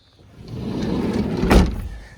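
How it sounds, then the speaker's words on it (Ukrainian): A sliding side window on a 2010 Renault Trafic long passenger van with a 2.0-litre engine slides open, a near, smooth scraping glide that swells and ends in a firm clunk as it stops. "Форточки, як ми бачимо, відкриваються звідси"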